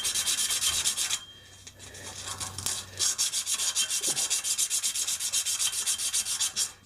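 Emery cloth rubbing back and forth around copper pipe, cleaning it before soldering. Close, loud, raspy strokes come in a steady rapid rhythm, with a brief pause in the middle before the sanding resumes, and no talking.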